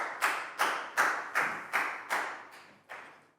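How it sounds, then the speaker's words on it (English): A classroom claps in unison, eight evenly spaced sharp claps at a steady rhythm, fairly close and moderately loud, with no talking. "High five and a big round of applause for bang pon."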